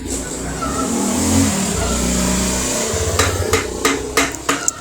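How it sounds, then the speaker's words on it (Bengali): Light hammer taps on an easy-bike differential housing to split its two halves: a run of sharp metallic knocks toward the end, over a running engine and workshop rumble. "বাড়ি দিবেন হালকা করে তাহলে দুই ভাগ হয়ে যাবো"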